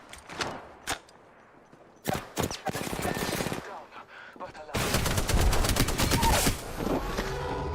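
Gunfire in Apex Legends arena combat: scattered single shots first, then sustained automatic bursts growing dense and loud, close and heavy, with no voices.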